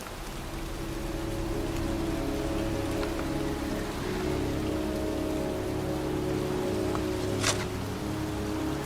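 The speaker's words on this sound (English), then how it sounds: "It's cold. It's raining. I'm standing outside getting soaked." Video game rain from Heavy Rain patters continuously on a surface, a dense even hiss with faint scattered drops, with no voices.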